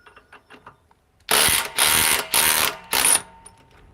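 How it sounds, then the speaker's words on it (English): A DeWalt DCF870 hydraulic impact driver fires in four loud, rapid bursts of rattling impacts close up, each about half a second long with short pauses between, after a few faint clicks. "This is some hydraulic impact driver, I tell you that."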